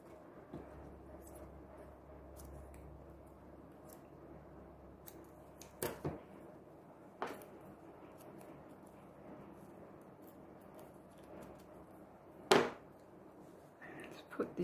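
Scissors snip through a paper word cut from a printable sheet for a junk journal, a few crisp, separate cuts spread over quiet background with faint room noise.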